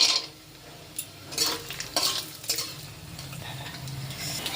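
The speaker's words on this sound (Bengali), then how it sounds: "প্রথমে চিনেবাদামটা ভেজে নেব।" Peanuts fry in mustard oil in a wok, a soft crackle with occasional clinks and scrapes of a spatula or spoon against the pan, close by with no talk.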